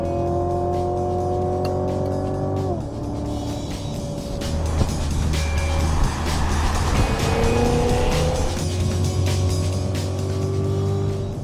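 A 2016 Cadillac CTS-V engine roars through a hot lap on a racetrack, loud and close, rising in pitch through the gears with sharp drops at shifts and a brief tire squeal midway.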